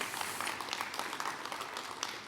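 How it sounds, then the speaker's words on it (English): Audience applause at a keynote address by Tennessee Governor Bill Lee: a broad, steady wash of many hands clapping from a crowd, continuous and fairly even throughout, with no speech over it. "That's a good thing to clap about"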